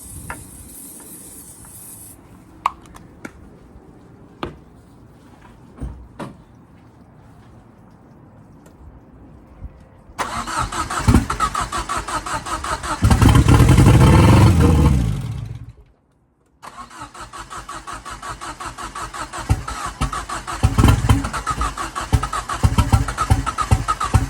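A Ford Fiesta RS Turbo under restoration cranks and catches, a loud, close engine burst that surges for a few seconds, cuts out briefly, then settles into an uneven, rough running idle.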